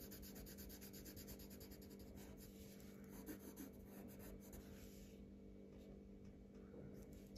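Colored pencils scratching and rubbing across paper during a drawing lesson, a soft continuous back-and-forth shading sound heard close up and fairly quiet, without speech.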